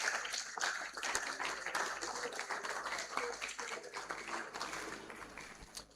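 An audience claps for a lecturer after a talk, a continuous patter of many hands with some louder individual claps standing out, steady from start to finish.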